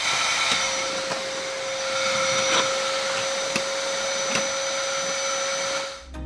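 A vacuum cleaner runs steadily right beside a cat, a loud continuous motor whine with a sharp high tone, faint bumps as it moves, then trailing off at the very end; no one talks.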